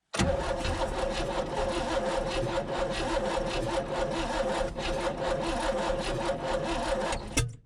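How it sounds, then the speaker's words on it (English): A 1965 Chevy G10 van engine, sitting unused for 25 years, cranks over after gas is poured into the carburetor: a loud, continuous churning drone lasting about seven seconds with no talking. "So now we're going to hit the key and should fire."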